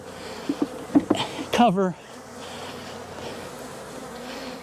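Angry honeybees buzzing around an opened hive during a wax test, a low persistent hum that continues after a few brief spoken words and knocks near the start, the swarm sound steady and fairly close.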